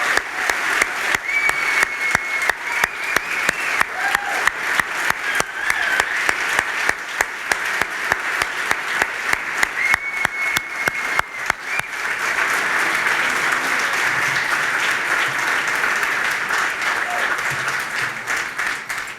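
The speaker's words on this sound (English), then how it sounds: "if you'll all join me in a serious round of applause for this part of our team" An audience at a 2023 benefit gala applauds for about twenty seconds, with loud, dense clapping that grows fuller and steadier partway through.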